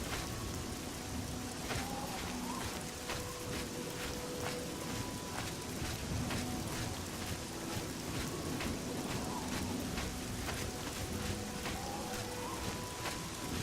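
Steady rain falls in the video game The Elder Scrolls IV: Oblivion, a constant dense patter on an overcast coastline, with faint tonal game ambience and occasional soft clicks underneath, no voices.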